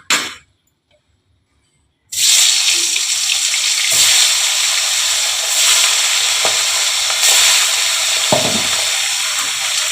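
Small, fresh hilsa fish frying in hot oil give a steady, dense sizzle with faint clinks and scrapes, starting abruptly after a brief quiet gap and continuing loud and close.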